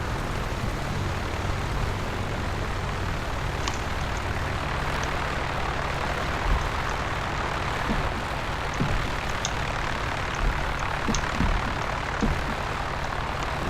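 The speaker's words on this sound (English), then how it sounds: "as I'm taxiing, I've got the elevator back full" A light propeller aircraft taxis on a gravel taxiway, its engine droning steadily and loudly from inside the cabin, with occasional faint clicks and bumps.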